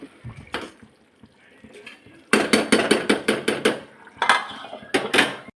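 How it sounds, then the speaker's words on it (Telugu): Fried dried fish pieces dropped into a simmering stew of salted fish and egg curry and mixed in: sharp, close metal clanks and rapid rhythmic ladle strikes against the pot in bursts, with quiet gaps between. "ఇప్పుడు మనం ఫ్రై చేసుకున్నాం కదా ఎండు చేప ముక్కలు ఇందులో వేసేసుకోవాలి."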